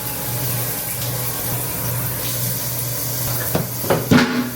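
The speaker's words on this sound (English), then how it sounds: "I'll just shower now." A shower runs in a steady, close hiss of falling water with a low constant hum beneath, and a few sharp knocks and splashes near the end as something shifts under the spray.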